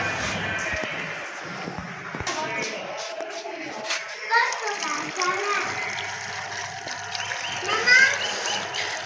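Water is poured from above into a large pot holding a root-bound mulberry plant on a rooftop garden, a steady soft splashing and gushing with faint outdoor background voices.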